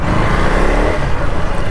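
A 2024 KTM Duke 250 motorcycle with a BS6 Stage 2 engine pulls hard under acceleration while overtaking, a loud, close, steady engine roar lasting under two seconds with no talking.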